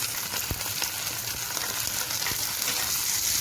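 Chicken gizzards fry with softened onions in a pan, a loud, steady sizzle with a few stirring scrapes throughout, close up.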